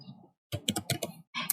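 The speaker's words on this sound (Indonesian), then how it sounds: "kalau kita mengetik youtube.com" Quick bursts of keys struck on a computer keyboard as a web address is entered, a cluster of closely spaced clacks after a short pause, then one more brief run of strokes.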